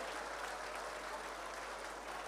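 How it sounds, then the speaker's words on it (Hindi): Audience at a mushaira in Karimnagar clapping in a dense, steady burst of applause, fairly faint and distant, with no voices heard over it. "एक बार दोनों हाथ का जोरदार कमेटी, मुशायरा कमेटी के लिए जोरदार तालियां बजाएं।"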